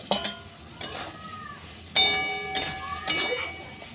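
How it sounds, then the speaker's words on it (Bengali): Fried potatoes are stirred into a cooked spice masala in a pan for an eggplant recipe, giving a soft sizzle under metallic scraping and ringing clinks of a spatula at irregular moments. "এইবার ভেজে রাখা আলু দিয়ে কষিয়ে নেব।"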